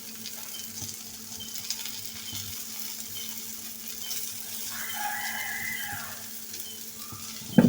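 A cheese omelette and paratha cook in a pan over a medium flame, giving a soft, continuous sizzle with a faint hum and a small clink at the end.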